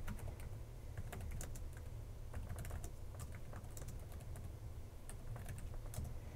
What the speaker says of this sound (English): I'll type that again.